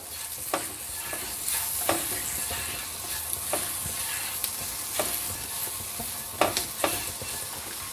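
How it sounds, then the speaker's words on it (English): Granola mix with low-fat milk powder being stirred together in a bowl, giving soft scraping and scattered clicks at an uneven pace over a steady hiss, with no talking. "I'm just going to mix it all together"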